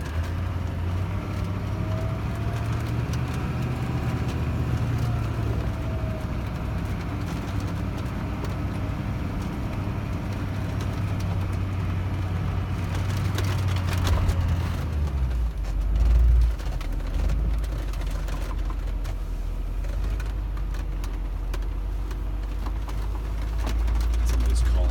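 A Hummer H1 Alpha drives a serpentine path on a proving ground, its engine a steady, heavy low rumble inside the cabin that swells briefly midway, with people talking over it.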